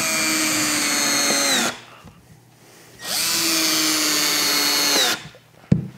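A Milwaukee M12 no-hub torque driver (model 2455-22) runs at full speed in two long, steady whirring bursts, each winding down with a falling pitch, with a quiet gap between them and a sharp click near the end.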